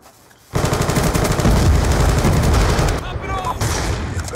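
Rapid automatic machine gun fire in a shooter video game, a dense, loud sustained burst starting abruptly and running for several seconds before thinning into scattered shots.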